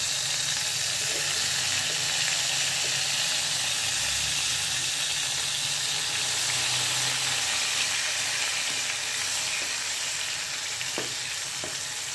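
Onion paste and curry leaves sizzle in hot oil in a pan for brinjal curry, a steady close hiss running the whole time with faint scrapes and clicks and no talking.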